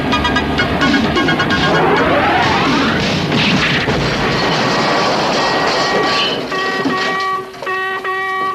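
A loud, sustained crashing roar with rumbling and metallic clatter, fading slightly toward the end.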